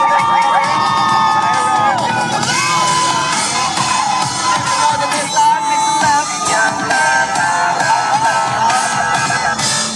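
A large crowd at a live concert during the 2013 Hmong J4 Sports Tournament cheers and shouts continuously, loud and close, with high excited voices and whoops throughout.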